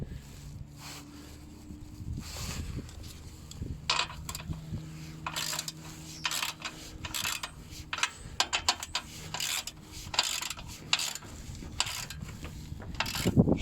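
A ratchet tightens a bolt on a VW Polo's exhaust, producing bursts of close, dry clicking between quieter pauses, mixed with faint rubbing and handling noises.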